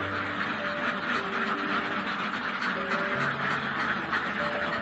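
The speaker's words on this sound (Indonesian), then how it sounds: "makanya kenapa dikatakan bebek itu cerewet ini. Selalu wow. Cerewet bebek." Farmed ducks kept without a pond quack together in a busy, continuous chorus, with many overlapping calls close by and steady throughout.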